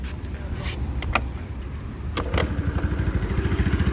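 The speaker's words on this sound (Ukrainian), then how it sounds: "Так, Перевіримо кікстартер." A Honda Dio AF62 scooter is kick-started, giving a few scraping kicks before the small two-stroke engine catches and settles into a close, steady, rapidly pulsing idle.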